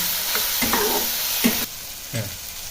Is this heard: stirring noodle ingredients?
yes